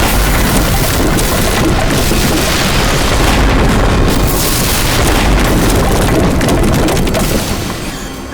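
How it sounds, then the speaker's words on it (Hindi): A bomb blast in a crime drama erupts as a dense, loud, sustained roar of rumbling and crackling debris lasting several seconds before trailing off, with no voices over it. "और ये हुआ धमाका।"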